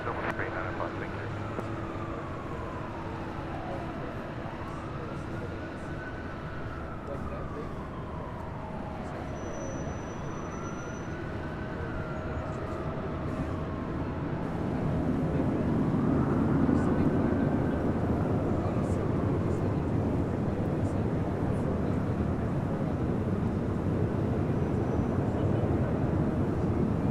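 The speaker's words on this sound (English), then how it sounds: "So Falcon is taking off to Van Nuys." A Falcon business jet takes off from LAX runway 24 left, its engine roar building into a broad continuous rumble that grows louder partway through, with radio chatter heard underneath.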